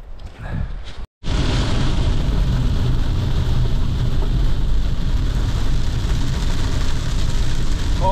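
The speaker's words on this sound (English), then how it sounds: "The hailstorm coming in." Heavy rain pours steadily during a winter storm while camping, a dense, loud wash of noise with low rumble that could be thunder or hail, broken by a brief dropout near the start.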